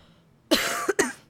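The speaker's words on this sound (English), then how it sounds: "I was really trying to hold in that cough" A single sharp cough bursts out after a moment of quiet, followed quickly by a second, shorter cough.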